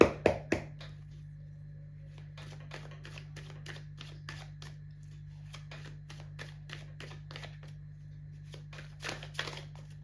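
Tarot cards being shuffled by hand, a steady run of soft riffling flicks and slaps close by, with a few louder taps at the start and a denser burst near the end.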